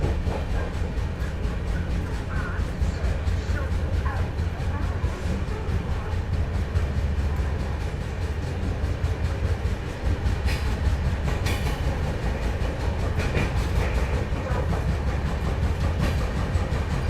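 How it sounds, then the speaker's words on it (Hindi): Riding aboard the CR Rajdhani Express (22222) while it overtakes the Sevagram Superfast Express: a constant heavy low rumble of the moving coach with faint rail clatter and brief clicks passing through. "अपनी CR राजधानी ओवरटेक कर रही है यहाँ"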